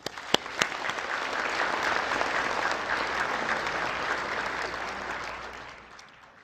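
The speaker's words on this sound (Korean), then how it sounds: "다시 한번 박수 치겠습니다." Sustained applause from a large audience at a national prayer breakfast fills the room, beginning with a few sharp claps, holding steady as a dense wash, then fading out near the end.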